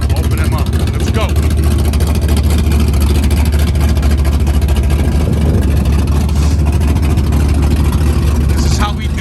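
A 1970 Chevrolet Chevelle's engine rumbles loud and deep with its electric exhaust cutoffs open, a steady, heavy low roar throughout with a voice speaking over it.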